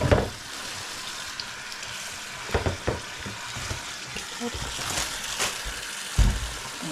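An egg frying in a pan gives a steady crackling sizzle with stirring scrapes and a few louder pops and clatters, close and continuous, with no voices.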